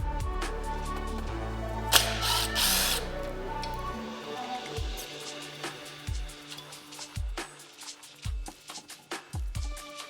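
A power tool whirs loudly while removing bolts from the servo motor of a 2004 Honda CR250 two-stroke dirt bike during a teardown, then short ratcheting clicks and metallic taps follow, close up in a workshop.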